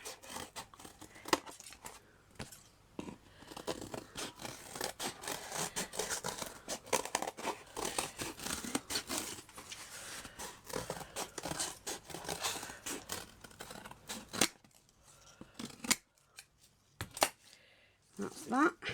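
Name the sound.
cutting cardboard shape with scissors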